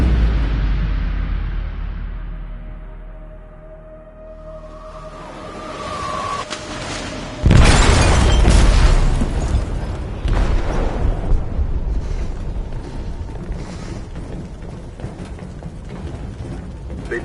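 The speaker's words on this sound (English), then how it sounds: "They detonated an explosive in the hold. The ship is sinking, sir." Explosion in the hold of a ship in Detroit: Become Human, a sudden heavy boom that cuts in over mechanical rumble and creaking, followed by sustained loud roaring, rattling debris and low rumble with no talk.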